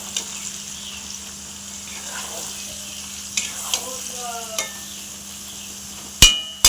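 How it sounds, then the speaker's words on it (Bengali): Capsicum and onion fry in a pan with a steady, soft sizzle and occasional stirring clicks, with a couple of sharper clatters near the end. "ক্যাপসিকাম আর পেঁয়াজ ভাজছি।"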